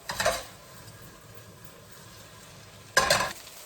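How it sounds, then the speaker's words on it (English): Butter melts in a pan on the stove with a low, soft sizzle, broken by two brief, louder bursts of frying and stirring at the start and near the end. "A little bit of butter. Melt that."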